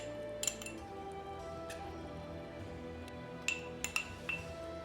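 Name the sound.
glass jar clinking while filling with pickled Jerusalem artichoke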